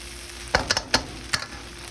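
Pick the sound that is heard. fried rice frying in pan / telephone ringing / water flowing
fried rice frying in pan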